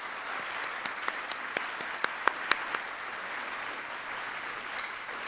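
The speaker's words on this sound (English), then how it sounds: "so we can give you a round of applause" A crowd at a speech by First Lady Michelle Obama applauds steadily throughout, a dense wash of clapping with a few sharper individual claps standing out, fairly distant and even in loudness.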